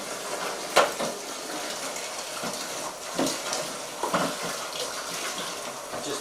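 Filtered cold water runs from a house tap in an even, moderately loud broadband stream, with a few brief splashes or clatters near the start and toward the middle, and no voices.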